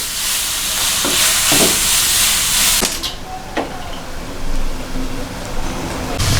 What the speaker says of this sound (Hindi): अब हमने इसको 2 to 3 मिनट्स इसको भी हमने इसमें फ्राई करना है